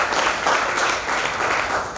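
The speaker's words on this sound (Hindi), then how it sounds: "सम्मान में जोरदार तालियां" Loud, sustained applause from an audience honoring two students at a gathering, dense steady clapping filling the whole stretch without pause.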